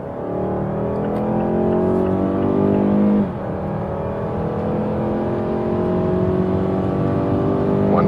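A 2021 Mazda CX-5 in sport mode accelerates hard from 60 km/h, its engine note rising steadily in pitch with a brief dip at a gear change around three seconds, then climbing again, loud and continuous with no talk.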